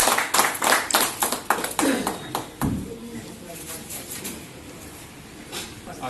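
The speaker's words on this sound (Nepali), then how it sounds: "अलिकति ताली बजाइदिनु होला है।" An audience at a blood donation press meet in Salleri, Solukhumbu, claps loudly for a few seconds as a guest is called to the stage, then the applause fades into quiet room murmur.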